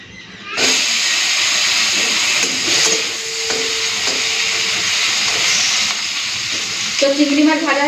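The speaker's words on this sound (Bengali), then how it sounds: "কড়াই গরম হয়ে গেছে, দিয়ে দিচ্ছি সরষের তেল।" Mustard oil poured into a hot wok sizzles and hisses steadily after a sudden start, with a few clinks of utensils and a soft voice near the end.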